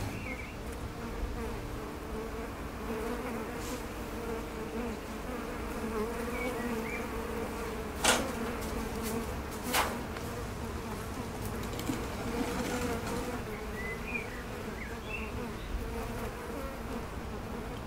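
A dense, continuous buzzing of a honeybee swarm fills the air, steady and close, with occasional individual bees droning past and a couple of soft knocks.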